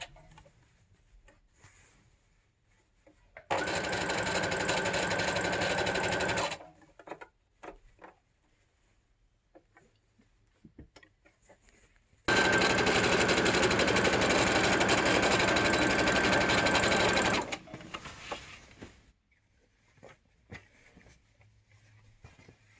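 A sewing machine stitches a PPE surgical gown in two sustained bursts, about three seconds and then five seconds long, with a steady fast whirr each time and quiet pauses between them.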